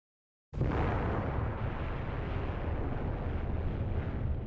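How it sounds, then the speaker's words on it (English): The world's first hydrogen bomb explosion, detonated in a 1952 Pacific island test, erupts abruptly out of silence into a huge, dense, sustained roar that stays loud and rumbling without letting up. "the world's first hydrogen bomb explosion vaporized the tiny island of Alugalab in the Pacific"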